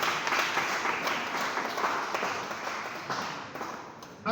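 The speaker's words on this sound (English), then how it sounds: "I want us also to give a wonderful hand clap to our panelists" Audience applause for the panelists at a leadership academy dialogue event, a steady dense wash of clapping held throughout, fading slightly toward the end.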